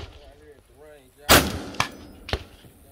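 Three gunshots from a 300BLK firearm at an outdoor gun range: one loud close blast followed by two sharper reports, with voices talking just before.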